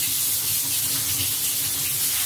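Lukewarm tap water runs steadily into a bowl in a home kitchen during bread dough preparation, a continuous close, even rushing splash with no voices.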